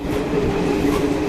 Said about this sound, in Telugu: ఇప్పుడు మన ట్రైన్ యాక్చువల్లీ ఒక బ్రిడ్జ్ మించి వెళ్తుంది